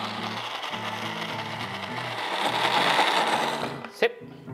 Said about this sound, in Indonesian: pertama gue pengen ngalusin si bawang-bawangnya dulu ya